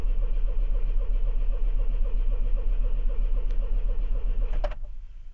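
A car engine cranks steadily on its starter with an empty oil circuit after an oil change, a continuous rhythmic churning that cuts off abruptly near the end.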